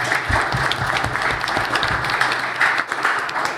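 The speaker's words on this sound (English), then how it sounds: "Let us give them a round of applause." Steady loud applause from the audience at a business breakfast forum, a room full of people clapping together for the event's sponsors, with no talk.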